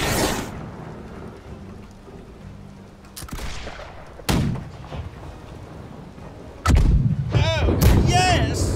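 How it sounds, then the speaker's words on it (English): Ship cannons fire from the left side of a Chinese junk in the naval game Blackwake. Several deep booms ring out at intervals over rain-like ambient noise, with a louder volley and whistling debris near the end. "Left side cannons on the Chinese junk. Left side, you can fire."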